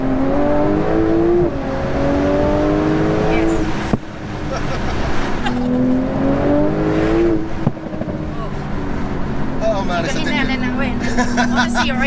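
A 1100 BHP Porsche 911 Turbo S launches and accelerates hard, its engine roaring and rising in pitch through gear changes from inside the cabin, with voices talking and reacting over the din.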